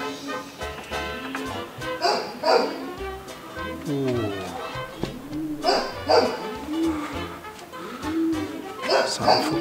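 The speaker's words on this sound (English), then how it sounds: "we're going to have Sue barking" A dog barks repeatedly in short bursts nearby, with a person talking over and between the barks.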